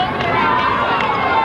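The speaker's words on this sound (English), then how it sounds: "You can hear the crowd beginning to get revved up." Crowd noise in a gym before tip-off at a 1994 high school boys basketball game between Norristown and West Chester Henderson, a steady wash of many distant voices building slightly, with no clear single speaker.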